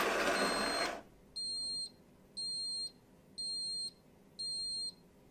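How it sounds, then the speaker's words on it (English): A Ninja Hot and Cold Brewed System signals the end of its brewing cycle with four evenly spaced, high electronic beeps. Brewing noise cuts off just before them, leaving a quiet room. "The cycle ended and was displayed and you heard the beeps."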